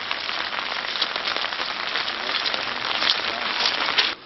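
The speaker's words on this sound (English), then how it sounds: "the rain showed no signs of easing" Heavy rain pours steadily onto the ground during a downpour on a rough, substandard road, a dense continuous hiss with scattered louder drops, close and alone with no talk.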